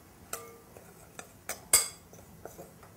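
A utensil clinks against a bowl as hazelnut powder, flour and sugar are stirred together, giving a few scattered taps and scrapes with one sharper knock midway, close and fairly quiet, with no talking.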